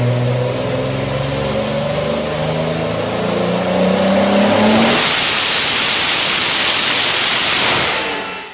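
A 1550 HP Toyota Supra drag car running 60 PSI of boost launches, a rising multi-toned engine whine building through the gears before breaking into a loud, roaring rush of exhaust and wind noise that fades at the end.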